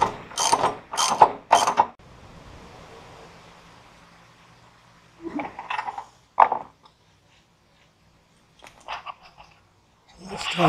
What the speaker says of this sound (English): Tighten the four wheel bolts.